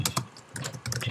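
Keys tapped on a device keyboard while entering a search in Safari, a quick burst of close, crisp clicks, a short pause, then another cluster of taps.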